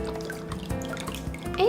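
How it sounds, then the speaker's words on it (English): Soy sauce pours into a Korean BBQ marinade, a short liquid trickle with small drips and glugs, close and moderately loud, with a brief brighter splash at the end. "Then I add about, I'd say 1 cup of soy sauce"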